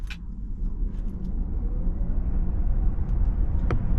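A 2025 Polestar 3 electric SUV accelerating with all-wheel drive, heard as a steady rising road and motor rumble that builds in loudness over several seconds, with no talk.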